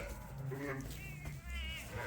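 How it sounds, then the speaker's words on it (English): A ewe and her two lambs bleat in a barn while being moved into a new pen: several short, quavering calls in quick succession, faint and somewhat distant. "Right now we're moving Big Betty and her 2 lambs into a new pen I've set up."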